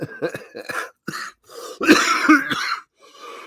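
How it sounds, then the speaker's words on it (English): Several harsh coughs in a row, close up, with a throat-clearing rasp and short breathy gaps between them. "I'm coughing."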